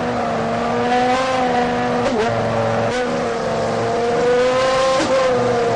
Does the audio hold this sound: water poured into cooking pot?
no